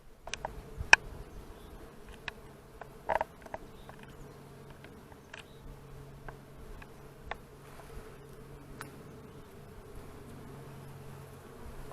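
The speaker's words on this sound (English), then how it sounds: "Don't know if you can hear that, but it's buzzing." A bee buzzes outdoors, a faint, steady low drone lasting throughout, with scattered soft clicks and ticks around it and no talking.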